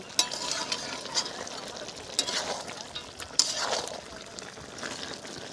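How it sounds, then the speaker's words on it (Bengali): Meat and onions frying in a pan as they are stirred, a soft continuous sizzle broken by several sharp scrapes and clinks of a spoon against the pan, close and fairly quiet, no talking. "মাংস আর পেঁয়াজ একসাথে নেড়েছি।"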